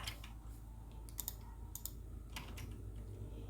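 Computer keyboard typing a sentence into a text box, soft scattered keystroke clicks over a steady low hum, faint and close, no talking.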